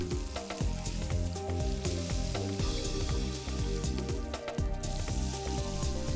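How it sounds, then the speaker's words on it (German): Pork roast searing in hot lard in a roasting pan, giving a loud, continuous crackling sizzle with irregular sharp spits and pops throughout. "Zuerst den Braten im Schmalz rundum kräftig anbraten und herausheben."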